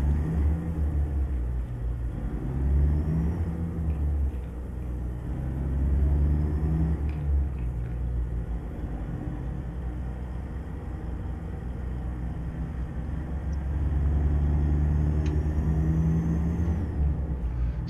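A low, rumbling truck engine in American Truck Simulator drones steadily throughout, swelling and easing as it revs, with faint hiss and occasional soft clicks.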